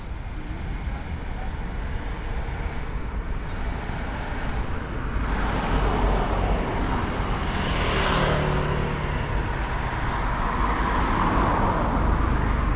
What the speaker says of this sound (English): There's a lot of traffic coming the other way tonight.